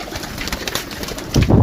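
Pigeons kept in a loft of about eighty birds coo close by, with a burst of loud, deep coos near the end over busy rustling background noise.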